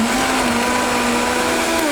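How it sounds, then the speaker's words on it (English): A Vitamix blender pulverizing almonds with water for almond milk, a loud, steady, high-speed motor whir with grinding texture, close and continuous. "The next thing we're gonna do is pulverize everything in the Vitamix."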